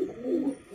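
A pigeon gives a single low, soft coo, close and alone, with nothing else audible.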